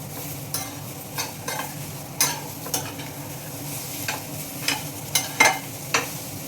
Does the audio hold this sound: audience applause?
no